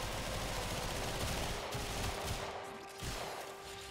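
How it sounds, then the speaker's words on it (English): Dense, continuous gunfire from the video game Warframe during a shooting frenzy, rapid overlapping shots and explosions that ease off slightly near the end. "then go on a shooting frenzy."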